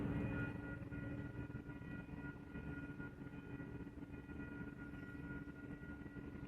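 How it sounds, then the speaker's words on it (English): A South Shore Line commuter train passes at a distance, a faint steady rumble with a sustained tonal hum, no voices present. "there's a South Shore train coming"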